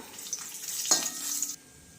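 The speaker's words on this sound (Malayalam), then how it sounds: "നമുക്ക് 5 മുളക് വറുത്തെടുക്കാം." Five dried red chillies frying in oil with a soft, crackly sizzle and a single light clink midway, then cutting off abruptly.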